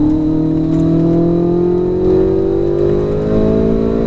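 A Ferrari 488 GTB or Chevrolet C8 Z06 sports car at full power on a race track, its engine note loud and close, rising steadily in pitch throughout as it accelerates hard.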